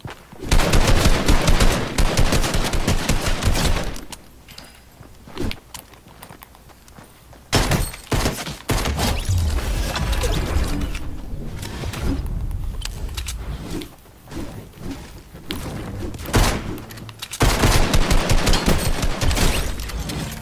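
Loud gunfire in the Fortnite video game comes as rapid automatic bursts and single shots in several clusters, with quieter stretches between the heavy volleys.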